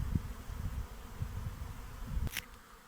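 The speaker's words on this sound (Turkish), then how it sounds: "Oğul olarak çıkmaya niyetlenen arılar şu çalının e, etrafında yoğunlaştılar." A honeybee swarm buzzes around a bush, a steady low hum with broadband rustle close by and no voices.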